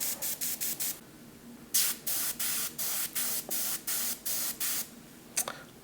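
Airbrush spraying paint, a series of short, sharp hissing bursts in an even on-off rhythm with a few quick puffs, close and alone without talk.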